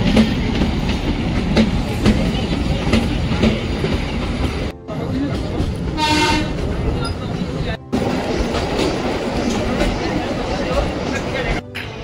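A moving passenger train on a mountain rail line between stations in the Himalayas rumbles and rattles continuously inside the compartment, with rhythmic clickety-clack over the rails, two brief dropouts and a faint ringing passage, while people talk in the background.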